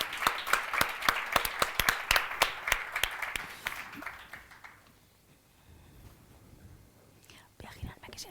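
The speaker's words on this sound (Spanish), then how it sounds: "Les damos un aplauso a las dos, por favor." Close, lively audience applause at a Spanish-language cultural talk: brisk clapping for about four seconds that quickly dies away into quiet room murmur and soft whispering, with a couple of stray claps near the end.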